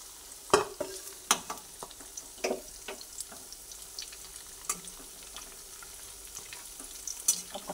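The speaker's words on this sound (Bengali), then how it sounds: "সবকটা লাল লাল করে ভেজে নিলাম।" Potato-stuffed pointed gourds (potol) fry in hot oil with a quiet, steady sizzle, broken by several sharp clinks and scrapes of stirring or turning in the pan.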